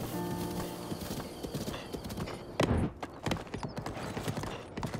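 Hooves of a horse in Zelda: Breath of the Wild clatter in a rapid galloping rhythm, with a whinny and a louder thump partway through, moderately quiet.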